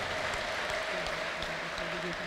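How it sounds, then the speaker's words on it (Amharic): A church congregation applauds, a dense steady patter of clapping mixed with ululation and crowd noise, fairly close and sustained throughout. "ደስ ያለው ከዚህ በላይ ልልታ ጭብጨባ ያምጣጁ"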